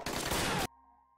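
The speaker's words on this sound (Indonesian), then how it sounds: "Baku tembak langsung terjadi." A dense, loud burst of rapid gunfire from a film shootout between special forces and a mafia, lasting about half a second before cutting off abruptly.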